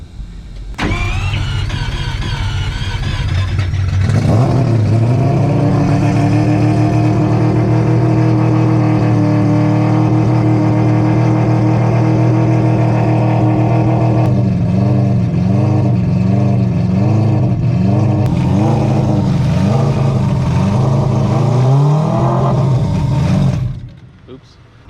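An all-wheel-drive four-rotor engine running on E85 cranks, catches and settles into a loud, raspy idle nearby during dyno tuning prep, its pitch wavering and surging through blips of throttle before shutting off.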